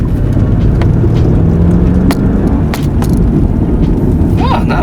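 A Mercedes E60 AMG sedan's engine rumbles low and steady from inside the cabin as it gently accelerates, with a faint rising drone that fades after a couple of seconds.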